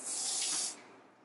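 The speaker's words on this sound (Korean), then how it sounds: "좀 이렇게 멀리서 스프레이 살짝 뿌려가지고 연습해도" Hair spray is misted lightly from a distance onto a short two-block haircut in a salon, giving a single soft hissing burst that fades away after a moment.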